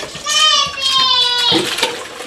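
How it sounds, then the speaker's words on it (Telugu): Water splashes and pours over a child's head during a bath at home, brief gushes under a child's and adult's overlapping speech. "సర్లే తలకు పోసుకుంటున్నావు నీళ్ళు"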